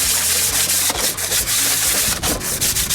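A sanding block is rubbed by hand across the engine block of a Fiat Scudo 2.0 HDI during a rebuild, giving loud, close, continuous abrasive scraping strokes with brief pauses between passes.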